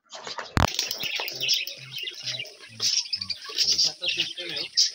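Pigeons on a farm coo in a run of low, rhythmic throaty notes, with a sharp burst of wing flapping near the start and a person talking over them.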